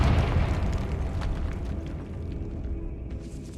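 A Confringo blasting spell detonates in Hogwarts Legacy, a loud booming explosion that opens with a heavy burst and then rolls on as a deep rumble that slowly fades.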